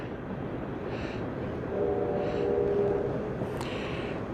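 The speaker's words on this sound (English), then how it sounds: "We have a Norfolk Southern train passing below, probably on the way up to Harrisburg." A Norfolk Southern train rolls past below on the line toward Harrisburg, heard from a distance as a steady rumble with a soft horn-like tone swelling briefly in the middle.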